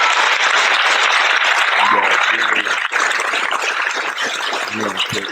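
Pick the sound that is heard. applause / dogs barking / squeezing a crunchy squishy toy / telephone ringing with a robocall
applause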